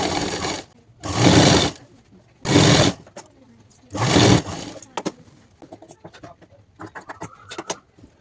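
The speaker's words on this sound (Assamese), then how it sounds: "ঠিক তেনেকুৱাকৈ মেচিন বেজি লগাই ল'ম" A sewing machine stitches a fold on a mekhela: four loud, close bursts of rapid needle whirring separated by pauses, then soft clicks and handling sounds as the fabric is adjusted.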